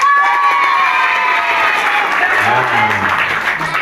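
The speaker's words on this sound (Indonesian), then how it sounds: "Tepuk tangan" Audience applause with cheering and children's voices from a school class, a steady dense crowd sound filling the whole stretch, loud and continuous.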